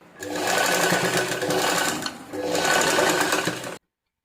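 A sewing machine stitching the shoulder seam of a designer blouse, running in two close, fast bursts of rapid rhythmic clatter separated by a brief pause, then stopping.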